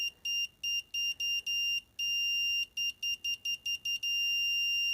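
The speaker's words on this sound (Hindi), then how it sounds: "when you are pressing this limit switch the buzzer will ring" An electric buzzer sounds as a limit switch is pressed and released in a robotics demonstration, giving a run of shrill, loud beeps of uneven length that ends in a sustained tone.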